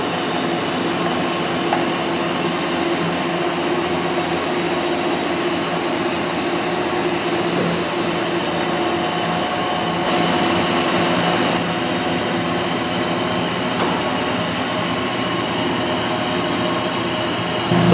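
Rebuilt Dodge engine idling steadily through a Flowmaster 40 series high-flow muffler, a continuous, even drone heard close by with no breaks or talking.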